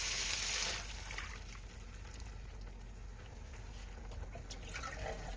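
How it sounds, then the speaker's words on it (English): Soy milk pours into a pot of miso noodle soup base with paprika and black pepper, a soft liquid splash and trickle starting with a brighter gush, then quieter drips and faint bubbling. "Pour in 200 ml soy milk."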